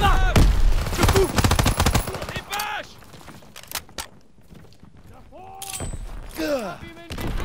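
Bursts of World War II rifle and machine-gun fire lay down covering fire in a Call of Duty battle, loud clustered volleys at the start and end with sparser shots between, while someone shouts a brief command.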